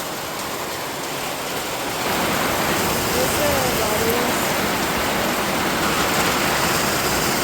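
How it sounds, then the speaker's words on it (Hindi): Heavy rain pours down steadily in Arunachal Pradesh, a dense hiss that grows louder after the first two seconds and stays constant and close. "इतना मोटा मोटा बारिश गिर रहा है।"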